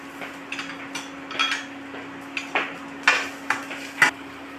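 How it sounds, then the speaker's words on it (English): Ginger and minced garlic sautéed for an eggplant and tofu stir fry: a faint background sizzle under a steady hum, broken by a series of sharp utensil scrapes and clinks against the pan. "Saute the ginger. And add the minced garlic."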